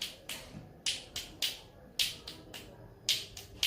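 One hand claps on its own, making about a dozen sharp, crisp snaps in an uneven rhythm. They are quiet but clear in an otherwise still room, with no talking.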